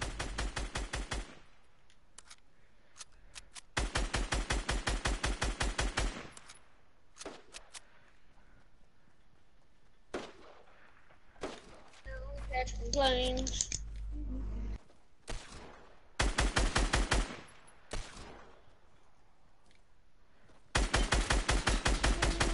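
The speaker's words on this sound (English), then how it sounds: "I'm shooting all this down" Automatic gunfire in the game Fortnite comes in long loud bursts of rapid shots, separated by gaps with clicks, scattered footsteps and shorter volleys, with voices talking in between.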